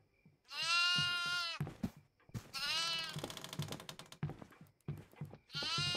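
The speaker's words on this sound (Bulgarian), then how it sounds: "Ето е козата." A goat in the horror game Devour bleats in long, wavering, nasal cries, several loud calls close together with short gaps between them and no talk over them.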